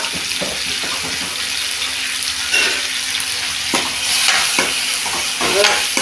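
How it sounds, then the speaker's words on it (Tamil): Onion and tomato sautéing in a pan for an oil-based brinjal kuzhambu, with steady close sizzling, a constant faint hiss and scattered soft stirring scrapes throughout, no talk. "குழைய வதக்கணும்."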